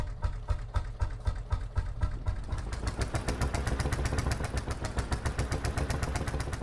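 Tractor engine idling in the Farming Simulator 19 game, a steady close rhythmic diesel putter with fast even pulses, loud and continuous throughout with no voices.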